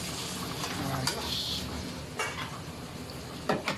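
Beef mechado being stirred in a pan, a spoon scraping and clinking against metal amid a soft sizzle, with a few sharper knocks near the end; close and fairly quiet.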